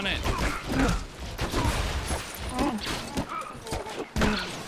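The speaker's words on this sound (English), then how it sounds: "Use the turret to destroy the ATST" Turret blasts aimed at an AT-ST walker in LEGO Star Wars: The Skywalker Saga, rapid repeated shots within dense, busy game action and music, with voices talking over it.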